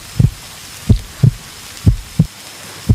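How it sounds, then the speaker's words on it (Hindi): Deep, muffled heartbeat thumps pressed close against a chest, coming in steady lub-dub pairs, three double beats over a few seconds with soft hiss between them. "आप मेरी हार्ट बीट सुन रही हो ना?"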